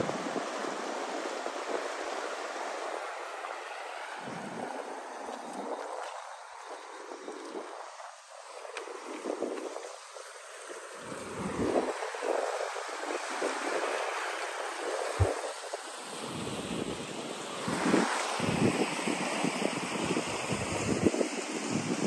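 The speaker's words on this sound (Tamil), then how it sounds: "இதெல்லாம் தான் வந்து தண்ணி பாஞ்சு கொண்டிருக்கு." Water flowing and rushing outdoors in Jaffna, a continuous broad wash of surging water with gusty buffeting on the microphone, swelling louder in the second half, no voices.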